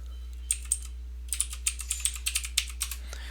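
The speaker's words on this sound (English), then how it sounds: "So I'm going to type blueberries without the space." Close, crisp typing on a computer keyboard while entering a name into a spreadsheet: a couple of isolated clicks, then a quick, uneven run of keystrokes that trails off at the end.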